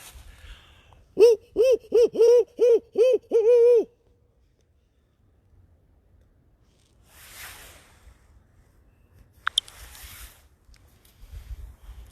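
A man imitates a barred owl with a run of about seven loud, rhythmic hooting calls close by during a spring night walk, followed by quiet night ambience with faint rustling.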